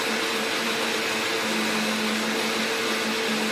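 Mixer grinder whirring as it blends spinach, green chili and coriander into a fine paste, a loud, steady, unbroken motor hum heard alone from start to finish.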